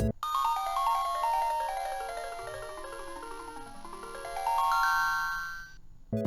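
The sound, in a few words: Game Boy Advance sound from its mono speaker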